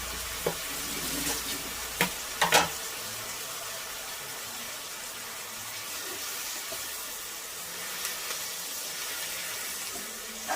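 Amaranth greens go into a cooking pan with turmeric, giving a steady moderate sizzle and hiss, with a few sharp clinks and knocks early on.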